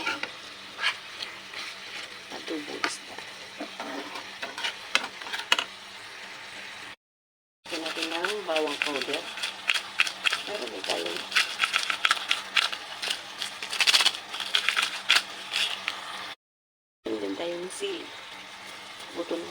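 Adobong isda sizzles and fries in a pan while chilies cook, a steady crackling hiss broken by frequent stirring clatter, with people talking over it and two brief silent gaps.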